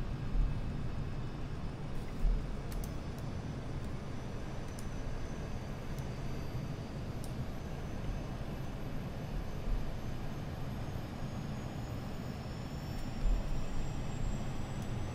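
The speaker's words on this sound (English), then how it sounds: "Enjoy the APU sounds, everybody." Simulated auxiliary power unit of an Airbus A320neo in Microsoft Flight Simulator 2020, a steady low even drone holding throughout with faint high whine lines above it.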